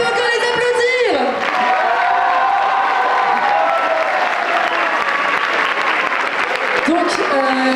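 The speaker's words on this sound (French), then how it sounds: "On peut encore les applaudir." An audience applauds artists at a student arts society list reveal, dense sustained clapping with a few whoops, while a voice talks over the start and the end.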